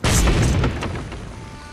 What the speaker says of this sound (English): there was a loud explosion.